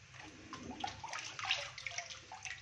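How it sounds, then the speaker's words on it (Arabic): Water drains from washed taro in a kitchen, a soft, close slosh and trickle with small splashes, quiet and continuous. "طبعا نصفي كده منه الميه دي كلها كده."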